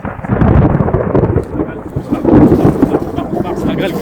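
Thunder rolls through a supercell thunderstorm with hail, a loud continuous low rumble with no sharp crack, rising again midway, steady and close.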